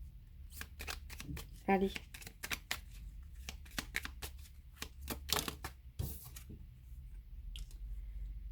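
Tarot cards are shuffled in quick, crisp riffles and flicks, close and fairly quiet, with a brief spoken word partway through.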